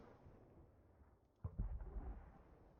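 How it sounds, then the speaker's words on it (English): Faint, distant cannon fire from a ship in a naval video game: a low muffled background, then one deep boom with a rumbling tail partway through. "Well, I hear cannon shots."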